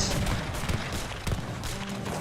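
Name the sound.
gunfire and cannon support fire in a strategy video game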